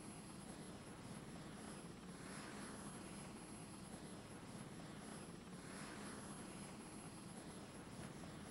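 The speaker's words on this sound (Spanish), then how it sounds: "Los helicópteros." A helicopter heard over a soft, steady engine drone with a whirring, pulsing rotor sweep, faint and continuous with no talking.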